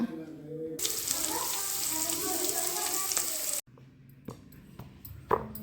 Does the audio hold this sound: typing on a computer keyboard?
no